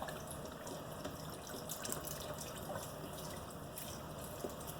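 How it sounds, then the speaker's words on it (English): A box of broth poured into a soup pot of zucchini soup: a continuous, even splashing gush of liquid that stays steady throughout, close by and without speech. "Now I'm just adding 1 box of broth."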